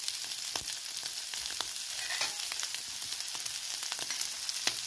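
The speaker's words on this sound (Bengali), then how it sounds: "আলুটার সাথে মশলাটা ভালো করে কষে নেব।" Spice mix and potatoes sauté in a hot pan for a bread pakora dish, a dense steady sizzle with small pops and occasional stirring scrapes, close and continuous, no voices.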